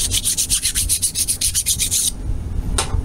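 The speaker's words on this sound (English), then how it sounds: "So I like to take just a fine file, and I'll just kind of go over top of these holes." A fine file rasps back and forth over drilled holes in a circuit board in quick, regular strokes about a dozen times, then stops, followed by one last scrape.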